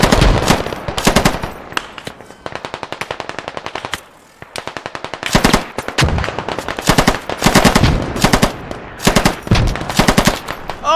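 Machine gun fire rattles through a realistic squad-based shooter game's 40 vs 40 battle: long, loud, rapid bursts with brief pauses between them, one short lull, then sustained firing again, with no talk over it.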